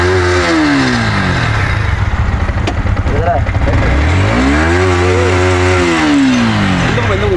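A Bajaj Pulsar 220F motorcycle engine cranks repeatedly without catching, a loud rising and falling whirr that repeats in two long pulls on an off-road hill ride, with voices speaking around it.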